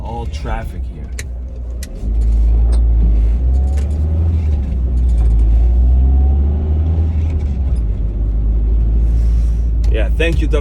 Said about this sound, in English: It's all traffic here.